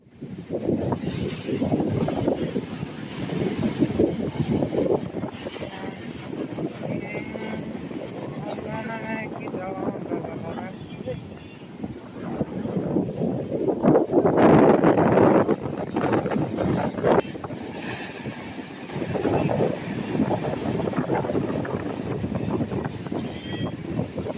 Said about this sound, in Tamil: செம்ம காற்று வீசுது